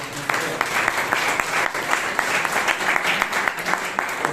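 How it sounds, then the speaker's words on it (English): Audience applause at a Bangalore Toastmasters club meeting: steady, dense clapping from a roomful of people, fairly near and even throughout, with a few sharper individual claps standing out. "Give a thundering round of applause to Toastmasters of the Day"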